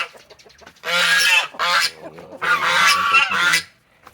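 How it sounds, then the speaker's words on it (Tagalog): Loud, close turkey gobbling from breeder turkeys on a turkey farm comes in several rapid honking bursts separated by brief pauses, with no talk. "Tingnan natin ang ating pabo."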